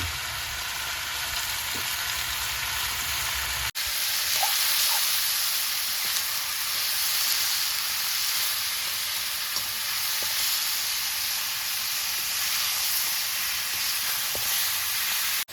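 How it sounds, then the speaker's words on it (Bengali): Goat head meat cooks in a hot pan with a loud, continuous sizzle and hiss, steady and close, with occasional small pops and a brief clatter near the start. "মাংসটা আমি চাপিয়ে দিয়েছি"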